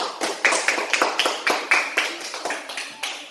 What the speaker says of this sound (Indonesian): Kepada kelompok 2 kita beri tepuk tangan dulu.